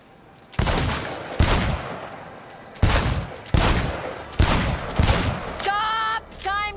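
Loud gunfire bursts at a shooting contest in Cyberpunk 2077: roughly seven sharp, close blasts in uneven succession, each with a brief tail, followed by a short electronic warbling tone at the end.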